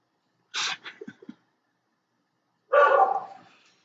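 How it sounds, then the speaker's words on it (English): A dog gives a loud, sharp bark followed by a few quick yips, then after a short silence lets out another longer, harsh bark, all close and clear with no talking. "the dog barks so loud that it irritates everybody"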